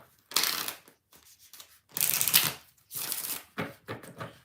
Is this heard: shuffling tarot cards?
yes